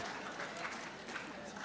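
Debate audience applauding at a moderate distance, a steady wash of clapping lasting under two seconds with no break.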